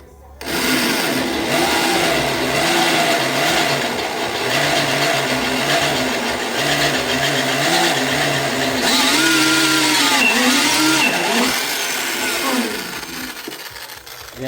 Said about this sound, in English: I'll go under the die grinder, touch it up, and then run the tap through it